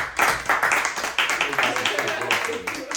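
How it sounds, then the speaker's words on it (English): Audience round of applause at a podcast taping, dense clapping running the full length at steady volume, with voices talking and whooping over it. "Can we get a motherfucking round of applause for that shit?"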